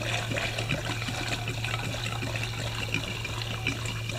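Liquid pours and trickles steadily into a container as 50-to-1 two-stroke fuel mix is measured out, a faint continuous splashing stream.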